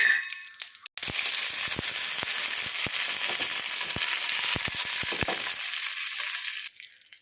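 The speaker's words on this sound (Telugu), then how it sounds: "ఆయిల్ అయితే పెట్టాను పోపులు వేసేసుకుందాం" Spices crackling and popping in hot oil as tempering for okra chutney: a loud sizzle starting abruptly, with scattered sharp pops over several seconds before cutting off.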